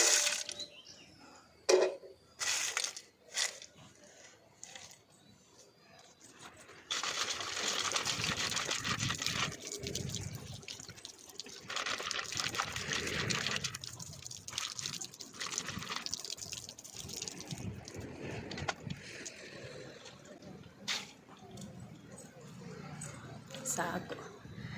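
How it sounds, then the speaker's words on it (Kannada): Water runs and splashes steadily while something is washed under a tap in a home kitchen, with intermittent drips and trickles and a person talking nearby. "ವಾಶ್ ಮಾಡಿಬಿಡೋಣ."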